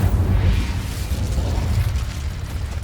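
An Incendio fire spell erupts in Hogwarts Legacy, a loud low whooshing burst that swells at the start and then rumbles steadily before easing slightly.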